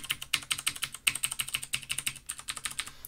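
A QPAD MK80 mechanical keyboard being typed on makes rapid, crisp, clicky keystrokes in an even rhythm, up close and clearly louder and sharper than a membrane board, with no speech.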